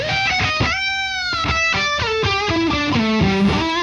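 An electric guitar played through a micro pitch shift effect with no reverb rings out a series of sustained, shimmering notes and chords, loud and up close, with no talking.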